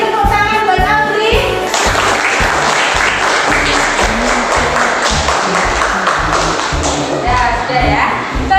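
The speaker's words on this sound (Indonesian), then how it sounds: "Beri tepuk tangan buat Audrey." Classroom applause for a student named Audrey, a burst of clapping that swells and fades over a steady rhythmic tapping beat, with voices underneath.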